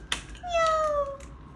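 A voice imitates a cat's meow for a toy cat during children's play with Lego Duplo farm animals, a single short rising-then-falling mew in the middle, near and fairly soft after a small tap.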